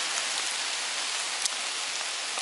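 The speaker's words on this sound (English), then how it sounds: "seems to be just drips coming off the tree at the moment" Rainwater dripping off a tree after a shower outdoors, a constant soft patter with a few sharper drops standing out.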